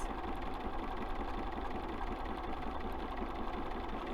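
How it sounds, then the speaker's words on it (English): A sewing machine fitted with an open toe embroidery foot stitches around fabric petals for a pillow, giving a steady, quiet, rapid mechanical whir that runs without a break, nearby, with no voices. "I would use an open toe embroidery foot so you can see exactly where your needle is landing as you are stitching around your petals"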